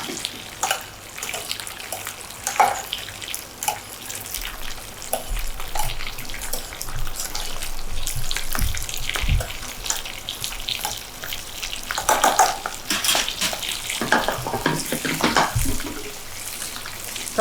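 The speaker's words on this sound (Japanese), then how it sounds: "でサンマをフライパンで炒めます" Saury fillets pan-fry in olive oil in a frying pan, a continuous crackling sizzle with scattered pops and spits, moderately loud and close, rising in bursts near the end, with no speech.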